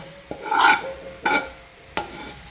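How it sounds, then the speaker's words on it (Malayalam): Tempered fried onions are added to a pot of thoran, making three short bursts of sizzling and stirring scrapes, each one sharp and close and then fading, with no talk. "അപ്പോൾ ഞാൻ അതിലേക്ക് നമ്മളെ താളിച്ച ഉള്ളിയൊക്കെ ഇട്ട് കൊടുക്കാം കേട്ടോ"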